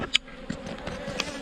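Swarm of honeybees around a hive, a steady buzzing drone broken by a few sharp clicks and knocks.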